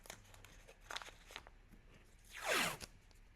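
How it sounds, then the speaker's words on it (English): Standard masking tape being peeled off its roll while packing a potted live plant for shipping, heard as a faint close ripping sweep after a few soft crinkles and taps, with no talking. "I first use just your standard masking tape."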